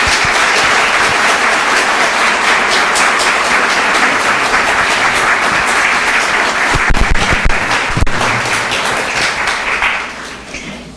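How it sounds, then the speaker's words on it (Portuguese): A lecture audience bursts into warm, sustained applause to welcome the evening's speaker on a cold night, steady dense clapping that tapers off near the end. "Vamos receber com uma salva de palmas bem calorosa nessa noite fria"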